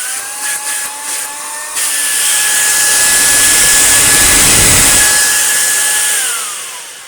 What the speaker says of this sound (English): We can see that, yeah, this is the motor unit.